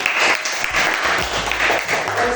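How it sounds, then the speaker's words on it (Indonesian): Schoolchildren in an elementary classroom clap together in a lively, slightly uneven patter, with a few young voices and faint background sounds mixed in. "Oke, tepuk tangan dulu"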